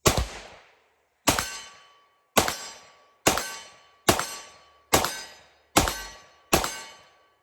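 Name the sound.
pistol shots firing SIG Elite ammo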